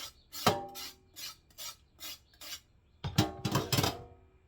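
A carrot is cleaned with a series of short, rhythmic scraping strokes close by, a few spaced rasps, a brief pause, then a quicker burst of several strokes.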